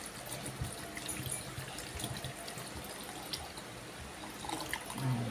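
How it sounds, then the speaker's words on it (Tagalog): Water trickles into a blender jar holding ingredients for a homemade health drink, a soft, steady close pour with faint splashes and a slight swell near the end, heard on its own without talk. "Lagyan natin ng tubig."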